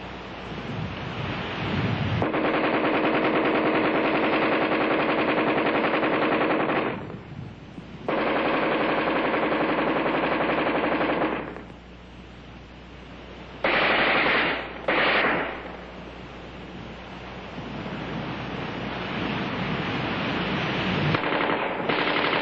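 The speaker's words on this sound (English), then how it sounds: "offhand firing against a man-sized target at combat range, the AR-10 is in a class by itself" An Armalite AR-10 rifle fires in long, loud bursts outdoors at a range, with brief gaps of echo between sustained strings of automatic fire.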